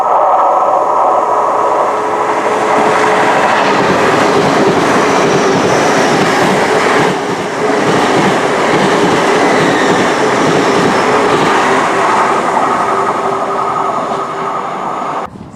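A train passes at Severn Tunnel Junction in South Wales, with a loud, steady rumble and rushing wheel noise that holds for the whole stretch, fading slightly near the end.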